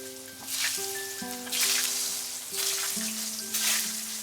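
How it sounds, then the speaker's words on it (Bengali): Large potato pieces fry in hot oil for a Bengali fish curry, producing a hissing sizzle that rises and falls in waves, with steady tonal humming from the kitchen underneath and no speech. "আলুটা ভেজে নেব।"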